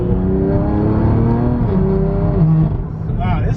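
A BMW F80 driving and accelerating, its engine note climbing in stepped harmonics through the gears, heard from inside the car with voices talking over it.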